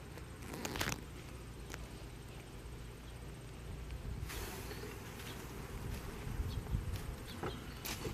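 Dense, continuous buzzing of many bees close by during a hive inspection, with a few louder passes near the ear and light rustling.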